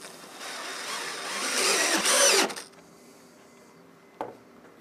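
A power screwdriver drives round-head 4x20 screws to fix a handle onto a wood-and-metal compost bin, a rising whir for about two seconds that stops abruptly, followed by quiet and a single short click.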